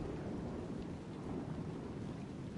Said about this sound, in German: War nur ein Donnern.